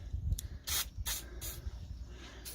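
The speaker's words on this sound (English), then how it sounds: "I'm actually going to spray a little bit of penetrating fluid in these." Several short bursts of penetrating fluid sprayed from an aerosol can onto the screws of a rusty brake disc, close-up sharp hisses with brief gaps between them.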